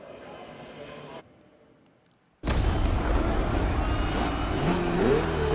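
A Ferrari race car engine in The Crew Motorfest bursts in with a sudden loud roar after a near-quiet pause. It then holds a sustained, rising rev, while a voice talks faintly underneath.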